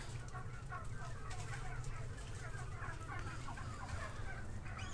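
Many nine-week-old turkeys fill a farm barn with a constant chorus of gobbles and clucks, close and dense over a low ventilation hum, with a voice faintly beneath.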